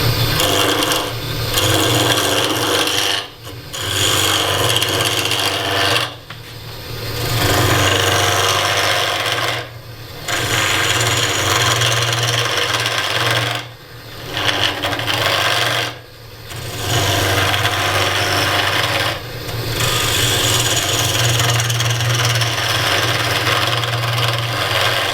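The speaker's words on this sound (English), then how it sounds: "I have the lathe speed about 1200, and I'm just going to take the corners off with the spindle gouge" A spindle gouge knocks the corners off a wood blank spinning on a lathe at about 1200 rpm, giving a steady rasping, scraping cut over a low motor hum, broken by brief pauses between passes.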